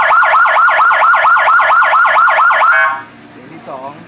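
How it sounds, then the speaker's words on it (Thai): Small 30-watt siren box running on 12 volts, first of its four tones: a loud, fast warbling wail repeating in quick even cycles for about three seconds, then cutting off to a faint tail. "ไซเรนขนาด30 วัตต์เป็นตัวเล็กมี4 เสียงนะครับเสียงที่1ครับ"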